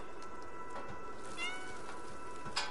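Cat meowing in the video game Stray, a few faint, short meows spaced apart over a soft rain-like background, with no talk.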